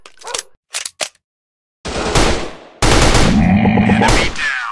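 Rapid gunfire in the mobile shooter Commando Run, with a few short bursts followed by a sustained, loud stream of shots layered over background game sound.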